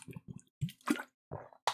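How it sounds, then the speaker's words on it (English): A person drinking water in quick separate sips and gulps, soft wet swallowing and slurping sounds with short silent gaps between, close to the microphone. "let me actually take a drink of water"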